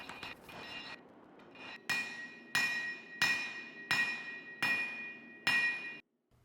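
A hammer pounds hot steel stock for a chef's knife on an anvil in close, ringing blows, several quick taps followed by six heavy evenly spaced strikes with metallic ring.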